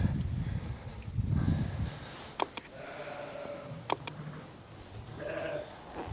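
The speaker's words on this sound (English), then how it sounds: "I know there's 2 sheep fighting over a lamb over here." Sheep bleat in a lambing shed: a few drawn-out, fairly close bleats mixed with rustling and a couple of sharp knocks, with no talking.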